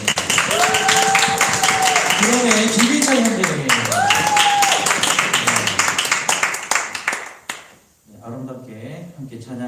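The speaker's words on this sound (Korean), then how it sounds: "박수 부탁드리겠습니다" Applause from the congregation at a Korean church's college and young adult worship service: steady, crowded clapping runs under someone speaking into a microphone, then fades into a brief quiet gap before sung music begins.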